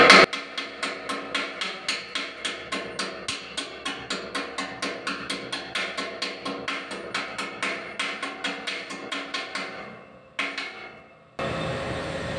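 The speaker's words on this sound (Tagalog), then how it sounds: "Tatanggalin mo yung slug niya or plaques para makita mo kung kumapit na." Steady rapid hammer taps chip slag off a fresh weld on a terrace frame, around three blows per second for ten seconds, then a brief pause and a short scrape before a steady hiss.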